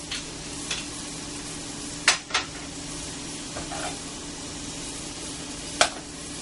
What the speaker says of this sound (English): we'll start with a little bit of oil, add the shallots, let that oil heat up